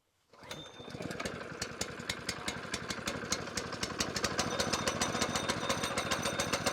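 A rusty Honda engine on a log splitter starts after a brief quiet and settles into a steady, loud, close mechanical chugging with a rapid regular firing rhythm.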